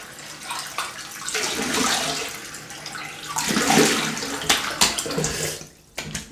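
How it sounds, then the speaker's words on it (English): Cold tap water runs steadily into a sink for a shaving brush rinse, a close, continuous splashing hiss with brief knocks and shifts in the flow. "Right, cold water rinse."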